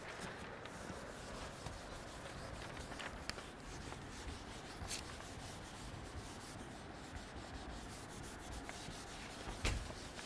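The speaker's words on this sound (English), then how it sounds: "Now I'm going to rub this." An eraser rubbing out written text on paper, a steady, close, scratchy back-and-forth rasp that continues throughout, with a few small taps and a brief knock near the end, and no talking.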